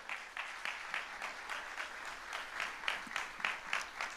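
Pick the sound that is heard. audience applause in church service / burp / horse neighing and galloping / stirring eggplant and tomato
audience applause in church service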